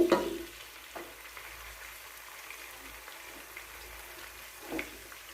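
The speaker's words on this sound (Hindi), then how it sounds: "तेज़ फ्लेम पे हम इसको भूनेंगे जब तक टमाटर जो हैं ये सॉफ्ट ना हो जाएं" Finely sliced medium tomatoes fry on a high flame for Sindhi biryani, making a quiet, steady sizzle with a few soft stirring knocks near the start and the end.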